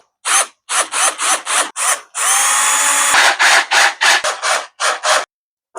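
Power drill driving screws into the casing of a Hisense 1.5HP portable air conditioner: loud, close whirring in short repeated bursts, broken by one longer continuous run of the motor.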